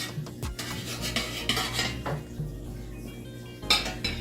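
A spoon scrapes and clinks against a metal pot while scooping out boiled, cut-up potatoes, several sharp knocks and scraping strokes, close and clear with no talking.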